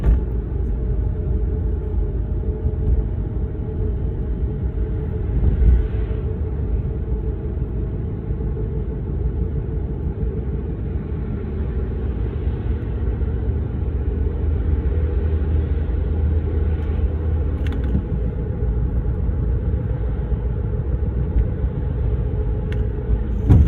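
Car cruising over a bridge during a driving lesson on a Kutaisi exam route, a steady low engine and road rumble that stays even and close throughout, with no talk.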